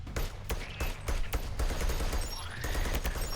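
Rapid gunfire from a weapon in the video game Sentry crackles in dense, repeated bursts over a constant rumbling game background, with sharp shots standing out at irregular intervals.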